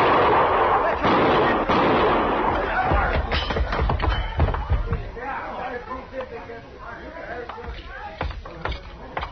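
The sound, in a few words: gunshot sound effect in a radio drama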